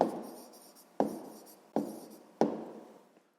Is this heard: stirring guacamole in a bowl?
no